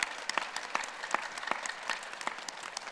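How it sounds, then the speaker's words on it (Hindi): Audience at a yoga and health gathering clapping enthusiastically, a dense steady patter of many hands with sharper synchronized claps recurring in a rhythmic beat, moderately loud and continuous, no speech over it. "जोरदार ताली"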